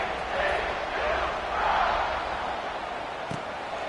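A stadium crowd in EA College Football 26, at a TCU vs Ole Miss game, roars steadily throughout as a broad, continuous wash of cheering with gentle swells, with a single thump near the end.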